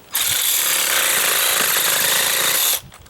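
A battery-powered cutting tool, its battery running low, cuts through tree roots beside concrete mowing strips: one steady, loud, high-pitched buzzing run lasting nearly three seconds that stops abruptly, with no talking.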